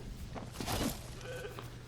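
A sheep in the LEGO Fortnite video game gives a short bleat that swells in the middle of a steady low game background, moderately loud, with no voices.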